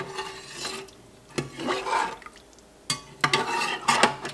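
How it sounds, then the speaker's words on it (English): Mozzarella curds being stirred in a pot, heard as close scraping and rubbing strokes against the pot that come in three surges, with a watery slosh. "I'm gonna start to carefully stir my curds"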